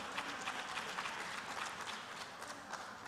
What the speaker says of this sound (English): Please, a round of applause for our Queen Mother.